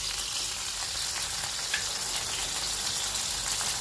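Okra frying in a pan for masala bhindi, a steady, close hiss and sizzle of oil with no pauses and no voices.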